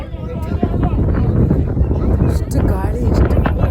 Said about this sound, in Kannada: ಎಷ್ಟು ಗಾಳಿ, ಎಷ್ಟು